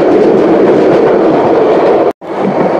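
The Subarna Express runs loudly on rails from Chattogram to Dhaka with a steady rumble and clatter heard from on board, cut by a brief dropout near the end.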